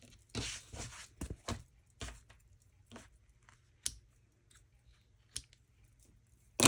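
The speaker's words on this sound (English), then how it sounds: "And so I'm going to cut these off." Scissors snip off loose stitching thread on a cloth-covered book cover, a few quiet crisp cuts and small clicks spaced out against near silence.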